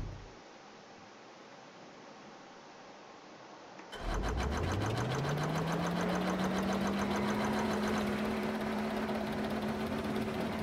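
Aircraft engines start up and run in a plane-and-tank video game, a loud steady drone rising in pitch after a quiet start, then holding a constant whine with rhythmic pulsing.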